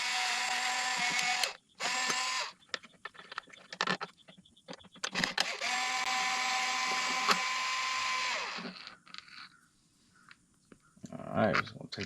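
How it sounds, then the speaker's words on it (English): T25 carburetor screws being removed from a Redmax EBZ5150 blower with a power driver: two sustained whirring bursts with short clicks and handling noises between them, close and moderately loud. "All right, we got T25s. I'm gonna take off these carburetor screws."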